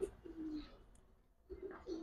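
Giribaz highflyer pigeons of a single bloodline coo softly in two low, rolling bursts separated by a short quiet gap, with no voices.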